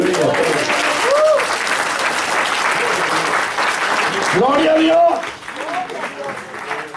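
A church congregation claps steadily and fairly loudly throughout, with voices calling out over the applause, which thins out near the end.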